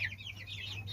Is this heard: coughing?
no